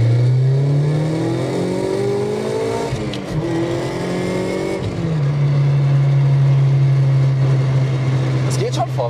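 A Mazda MX-5 NC with a 2-litre engine and Rotrex C30 supercharger accelerates along a straight country road, its loud engine note climbing in pitch, dropping at a gear change and rising again, with a supercharger whine over it.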